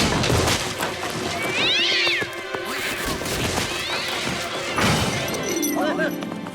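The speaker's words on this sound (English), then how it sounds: "The three of us to mind these cats?" Cartoon cats meow repeatedly and crash about in a house, with thuds and clatter mixed through an animated fairy-tale scene in which voices talk over the noise.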